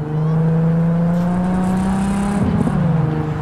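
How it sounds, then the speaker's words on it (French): A car drives in Cyberpunk 2077 with a loud, steady engine drone that rises slightly in pitch, then a brief rattling disturbance near the end, with no talk over it. "On va en voiture parce que flemme."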